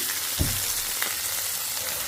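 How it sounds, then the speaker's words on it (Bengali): Fish fries in a pan with a steady, dense sizzle, close and continuous, broken by a couple of soft knocks from a utensil. "তো মাছটা দেখেন ভাজা হচ্ছে"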